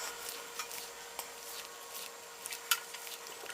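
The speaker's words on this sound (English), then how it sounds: "I'm just folding the blueberries in the lemon cake batter" Blueberries being folded into a dense lemon cake batter, a soft, quiet stirring and scraping in a bowl with a few light clicks and no voices.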